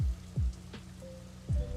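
Rain pattering in a highway driving game with a McLaren, a steady soft hiss broken by a few low thumping bursts, fairly quiet throughout.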